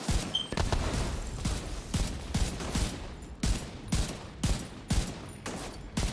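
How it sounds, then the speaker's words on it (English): Gunfire in The Division 2 plays at the Potomac Event Center on World Tier 3. A rapid fusillade of loud shots repeats at regular intervals throughout, with sharp cracks close up and steady firing between them. "It was a warning shot."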